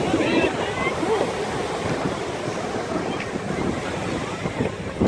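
Steady rushing surf at Coney Island beach with wind buffeting the microphone, a continuous broad wash of water sound without distinct pauses.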